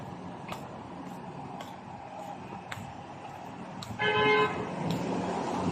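A passing car on a road sounds a short horn blast near the end, loud and close over steady traffic rumble and wind.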